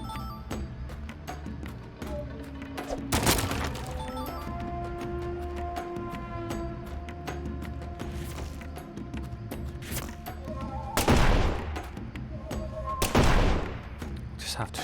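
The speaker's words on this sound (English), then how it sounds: "Just have to shoot those." Gunfire in the video game Deadly Premonition 2 cracks out in a few sharp single shots and short bursts over a busy game soundscape with mechanical tones, while someone talks now and then.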